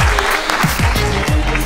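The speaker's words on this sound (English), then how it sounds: "So let's give them another round of applause." An audience at the Buffer Festival, an online video creators' event, gives a round of applause, dense clapping heard up close amid a busy mix of other sound, with low thumps running through it.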